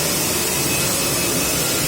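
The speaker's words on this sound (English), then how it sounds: "Start the vacuum." The vacuum table of a CNC leather cutting machine runs with a steady, loud broadband whoosh and hum, continuous throughout with no talking.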